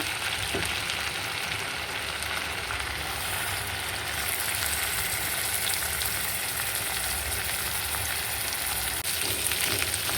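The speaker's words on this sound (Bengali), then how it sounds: "কালিয়াড়া মাছকে আমি ভেজে নিব।" Kaliara fish rubbed with salt, turmeric and chilli sizzles steadily in hot oil, a constant close crackling hiss with no talking.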